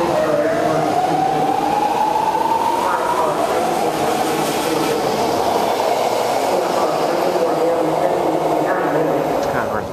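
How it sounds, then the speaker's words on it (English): BART train approaching a station, a loud continuous rumble with a rising whine and rail clatter building throughout, with a voice talking faintly beneath. "you can see the next train approaching"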